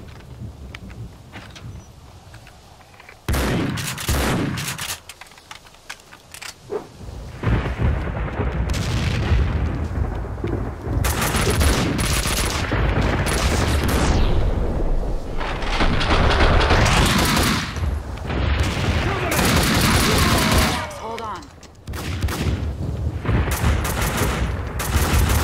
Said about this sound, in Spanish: Cuando escuchás tiros de arriba, en verdad es Mona que está disparando a los chabones.